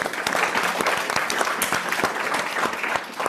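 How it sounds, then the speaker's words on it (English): Steady applause from a sizable crowd at a COP26 climate summit launch event, dense and even throughout with no pauses. "Applause to you too."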